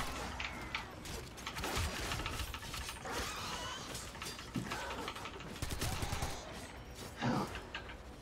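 Rapid bursts of gunfire from Warframe, dense and continuous with sharp peaks near the end, with faint voices underneath.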